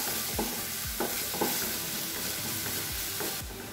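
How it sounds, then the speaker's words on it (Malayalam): Shallots and curry leaves sauté in a pan for a green gram stir-fry, with a steady close sizzle and several soft scraping stirs at irregular intervals, no voices. "ഇനി നന്നായിട്ടൊന്ന് വഴറ്റിയെടുക്കണം."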